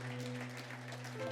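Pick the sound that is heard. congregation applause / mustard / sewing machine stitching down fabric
congregation applause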